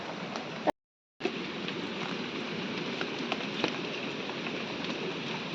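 Steady rain in the Konkan patters down on a surface, a dense continuous hiss with scattered drops, briefly cut to silence near the start.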